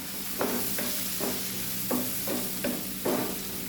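A spoon stirs chili powder into rose apple pickle in a pan, about six soft rhythmic scraping strokes over a low steady sizzle.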